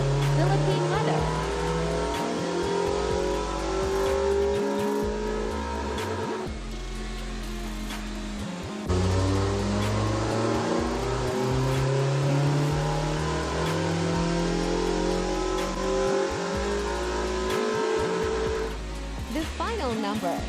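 A stock Toyota 1NZ-FE four-cylinder in an NCP91 track car with an aftermarket exhaust revs hard on a dyno, its pitch climbing through repeated pulls with a raspy, loud drone, while a voice talks over it.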